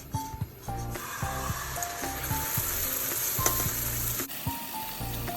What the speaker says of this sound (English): Heat up the sauce over a medium heat and constantly stir it to avoid burning the bottom part.